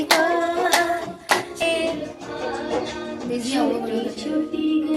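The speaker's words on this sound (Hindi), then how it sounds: "ताली बजा दो, ताली ताली।" Sharp hand claps land a few times at the start, mixed with a woman singing a children's devotional song; the claps drop out as the singing carries on.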